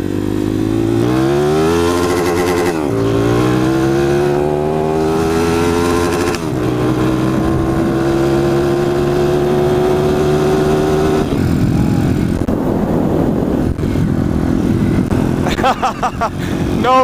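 A motorcycle engine with a muffler exhaust runs loud and close, revving up and down through rising and falling pitch before settling into a rough idle.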